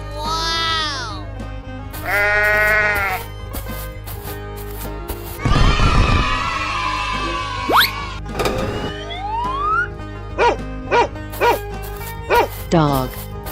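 A cartoon dog barks in short, repeated bow-wow bursts, loud and close, mixed with other bleating animal calls, a swirling effect and background music in a playful animal transformation game.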